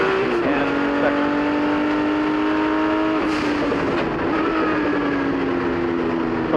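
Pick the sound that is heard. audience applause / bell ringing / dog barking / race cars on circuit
race cars on circuit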